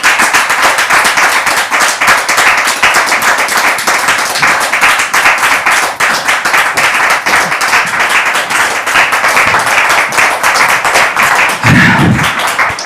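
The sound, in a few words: studio audience applauding a couple's entrance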